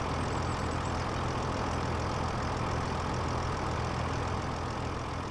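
A tractor engine idles in a farming video game, a steady low mechanical drone that holds evenly throughout with no speech.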